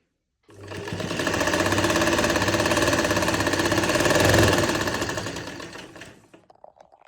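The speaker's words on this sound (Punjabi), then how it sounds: "ਆਪਣੀ ਦੋਵੇਂ ਪਾਸੇ ਜਿਹੜੀ ਸਾਈਡ ਸਲਾਈ ਆ ਉਹ ਲੱਗ ਚੁੱਕੀ ਹੈਗੀ" A sewing machine stitching the side seams of a garment, one loud continuous close-up run of rapid motor-driven needle chatter lasting about six seconds before stopping, with faint clicks afterward and no talk.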